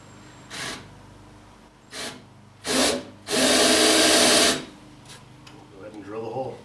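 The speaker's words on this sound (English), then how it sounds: "Go ahead and drill the hole." A power drill boring a small pilot hole, about 1/16 inch, into a truck cab, in short bursts of rising whine followed by one longer run of about a second, close and loud, with small clicks and handling noise between.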